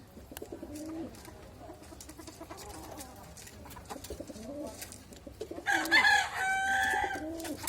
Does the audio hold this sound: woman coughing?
no